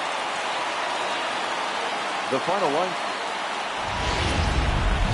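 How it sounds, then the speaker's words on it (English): Steady hiss of rain in a baseball video game, constant wash of noise under a brief spoken line, with a low rumble rising near the end. "There is rain in the area"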